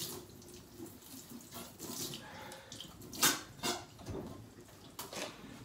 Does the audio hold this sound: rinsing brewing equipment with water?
yes